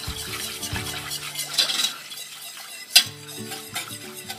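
Béchamel sauce with fish is stirred in a pan, giving a close, intermittent scraping and sloshing with utensil taps against the pan, a sharp clink near the end, and music faintly underneath.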